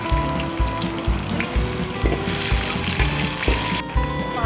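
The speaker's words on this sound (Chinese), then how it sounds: "炒起来吧。" Ginger and garlic stir-fry in hot peanut oil, a busy crackling sizzle with a rhythmic series of low scraping thumps from the spatula tossing the pan, close and loud with no talking.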